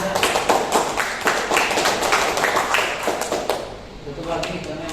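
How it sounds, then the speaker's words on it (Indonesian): Classroom applause for classmates, a burst of many hands clapping close by for several seconds before thinning out, with voices mixed in. "Tepuk tangan buat teman-temannya."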